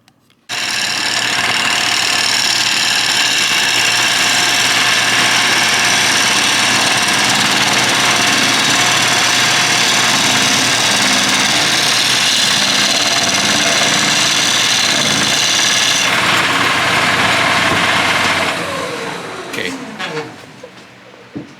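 A wood lathe spins a fiberglassed bowl, a loud steady motor whine with a constant high whir that holds for most of the clip, then winds down and fades near the end.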